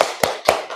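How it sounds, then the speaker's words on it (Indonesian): Schoolchildren in a classroom give a spirit clap, a few sharp hand claps in quick succession, loud and close. "Tepuk semangat."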